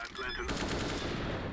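Rapid automatic gunfire in CS:GO during a pre-fire, a dense, continuous burst of shots that is fairly quiet and sits under a faint voice at the start.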